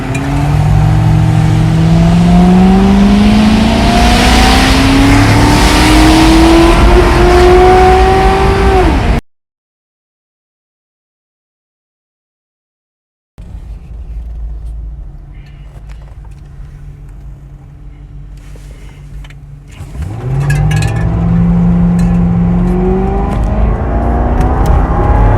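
A 2004 MGM car engine fires up and revs hard, rising and falling loudly up close; a stretch of silence breaks it before the engine idles roughly and then climbs into another strong rev.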